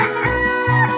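A rooster crows its cock-a-doodle-doo as a loud, close sound effect, one drawn-out call filling the second with no talk over it.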